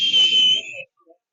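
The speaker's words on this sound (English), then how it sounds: "and then they blew their whistle." A referee's whistle at a varsity hockey game gives one loud, shrill, sustained blast of nearly a second, then cuts off, leaving faint rink noise.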